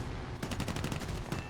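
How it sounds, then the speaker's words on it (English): A P-38's .50 cal machine guns fire in a combat flight video game, a brief quiet lead-in followed by a loud, rapid burst of rhythmic shots that runs to the end. "I'm gonna spray with my 50 cal,"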